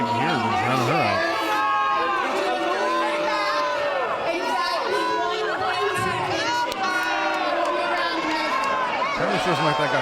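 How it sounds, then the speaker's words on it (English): A wrestling crowd at ringside booing a woman, a dense roar of many shouting and jeering voices that rises and falls, loud and continuous, with individual yells breaking through. "These people are booing her"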